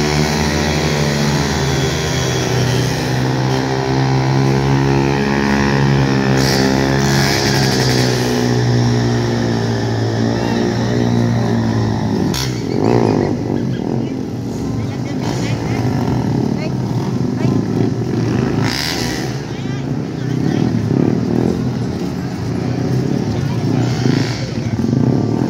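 A Suzuki Raider 150 motorcycle engine drones and revs steadily through a spinning wheelie, its pitch rising and wavering in continuous loud bursts with a few sharper throttle surges and background noise.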